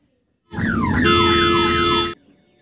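A loud wailing siren, likely from an ambulance, starts abruptly nearby, sweeps up and down in repeated pitch glides, then gets harsher and denser for about a second before cutting off sharply.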